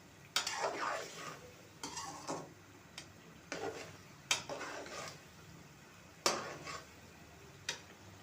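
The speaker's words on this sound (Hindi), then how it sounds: "और मसाले को अच्छी तरह भून लेंगे।" Spices roasting in a pot for junglee pulao, with scattered scraping and clinking strokes of a spoon against metal over a quiet background, the strokes spaced irregularly and fairly soft.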